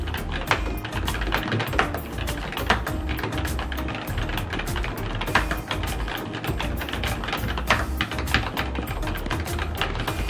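Rapid, continuous typing on an ASUS ROG Claymore II mechanical keyboard with Cherry MX Brown switches, a dense stream of close, crisp key clicks and thocks with no talking.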